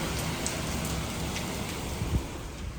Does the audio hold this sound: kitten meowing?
no